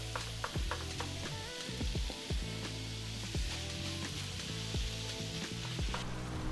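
Ground beef with garlic sizzles in hot olive oil in a pan, a close, steady crackle punctuated by sharp spatters and scraping stirs throughout.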